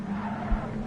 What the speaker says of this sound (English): Oh, I thought that was the sound of a car going around there.